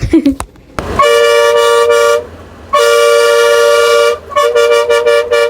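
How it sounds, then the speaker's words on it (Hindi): A car horn honks in long, loud sustained blasts, pausing between them, then a series of short quick toots at the end. "मुझे ना ड्राइवर अंकल का हॉर्न बड़ा सही लगा था।"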